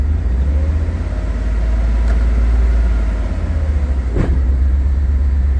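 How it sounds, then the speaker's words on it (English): A Mercedes R129 engine, revived after ten years, idles high in neutral or park with a loud, steady low rumble, broken by a couple of brief sharp knocks. "Put it in neutral or in park and idle super high."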